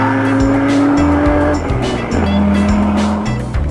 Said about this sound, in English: The Alfa Romeo is here. Fangio using all his skill to make up for his lack of intimate knowledge of the roads.